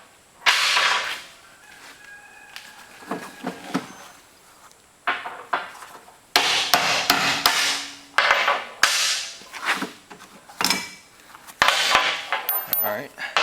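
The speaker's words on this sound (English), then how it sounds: "I'll take a hammer and knock that last little plug out" Sharp metallic hammer blows knock a leftover plug out of an ironworker punch in a fabrication shop, coming as irregular loud clangs in clusters with ringing decay between them.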